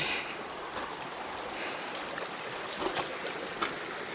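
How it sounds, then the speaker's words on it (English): Water sloshes and splashes softly in a running stream, with occasional louder swishes of someone wading through it, fairly faint throughout. "Just might as well trudge on through the water."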